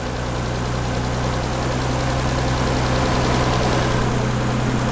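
Nissan 300ZX engine idling steadily after being started, a continuous close, even drone with a low rhythmic pulse and no talking over it.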